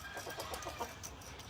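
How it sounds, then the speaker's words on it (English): Silkie chickens on a farm making soft, faint clucks in a quick irregular series of short murmurs over quiet background. "So these are our silky chickens right here."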